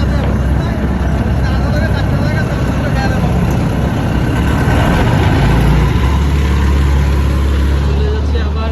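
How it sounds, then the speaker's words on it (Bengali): A passenger launch ferry heads to the ghat, its heavy engine making a loud, constant low rumble mixed with water noise, while voices are heard over it. "চলে যাচ্ছে আবার আমাদের লঞ্চ ঘাটে।"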